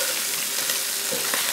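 Sausage and potatoes fry in a hot, greasy pan with a continuous loud sizzle and crackle, steady and close throughout with no talking.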